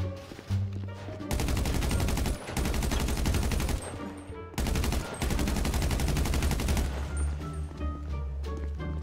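Automatic gunfire in the GTA RP zombie game FiveZ: two long, loud, rapid bursts broken by brief pauses, with a few scattered shots and game sounds around them.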